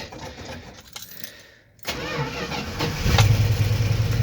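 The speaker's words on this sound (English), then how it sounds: "I'm gonna start it real quick, just so I can get the engine warmed up" A 1973 Dodge Tioga motorhome engine, unstarted for a week, cranks after a jingle of keys and a quiet lull, then catches and settles into a loud, steady, close idle.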